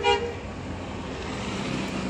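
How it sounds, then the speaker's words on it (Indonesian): An intercity bus pulls in at Klampok on a busy road, giving a short toot of its horn at the start, then its engine rumbles steadily amid traffic noise. "Bus masuk"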